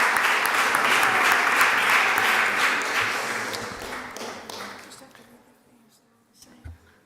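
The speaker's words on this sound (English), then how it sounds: "Give him a round of applause" A crowd at a Springfield city council meeting applauds, dense clapping that stays strong for several seconds and then fades away, with a voice speaking over it.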